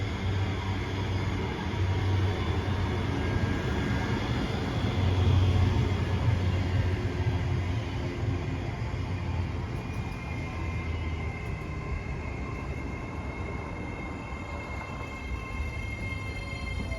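A Class 385 electric train, unit 385 007 coupled to another, passes through Motherwell station with a steady, sustained rumble and whine that runs continuously throughout at close range.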